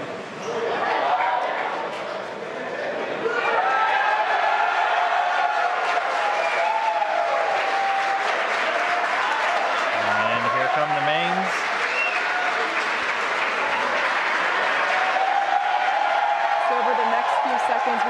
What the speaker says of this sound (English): You can hear cheering here at SpaceX headquarters as the employees that have gathered around our Mission Control